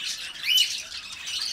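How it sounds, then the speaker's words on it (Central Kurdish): Several caged birds in a bird shop give faint, harsh squawks and screechy calls that blend into a continuous, fairly distant chatter. "هەر باڵندەیەکی دوکانەکەشی دەنگێکی تایبەت"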